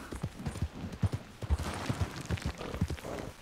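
Horse hooves clip-clop in a steady, rhythmic gait across open ground in Red Dead Redemption 2, each footfall distinct and moderately close, with faint game ambience behind.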